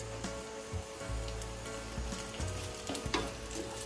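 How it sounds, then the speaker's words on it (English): Mustard seeds, cumin, chana dal, urad dal, peanuts and curry leaves roasting in oil over a low-medium flame, giving a dense, steady sizzle with scattered crackles and pops, close by and continuous. "Roast them on low medium flame till dal turns golden brown and peanut becomes crispy."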